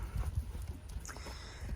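Hooves of a horse in a training session thud in an irregular, rushing clip-clop close by, soft and low, with faint background noise.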